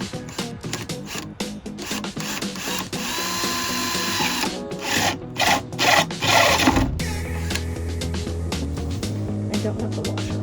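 A 5/8 spade bit drills into a plastic bucket in short bursts, then settles into a sustained, close grinding whine.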